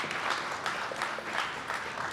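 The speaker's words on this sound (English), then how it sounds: "Please give my colleagues a round of applause that make my job really, really easy." Audience members at a Pennsylvania Turnpike plaza artwork event give a round of applause, a steady mass of clapping with gentle surges, close and continuous throughout.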